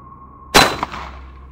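A single loud gunshot cracks out of near silence at night, followed by a second bang and a long reverberant echo off walls fading away.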